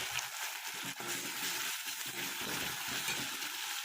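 Onion paste frying in oil with ginger, cumin, dried chili and garlic paste for a tangra fish dish, a dense, steady hiss of sizzling with a few stirring scrapes, close and loud, no voices.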